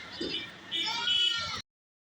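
Goats at a village weekly market give a short nasal bleat or two, near and fairly loud, mixed with a person's speech before the sound cuts off abruptly.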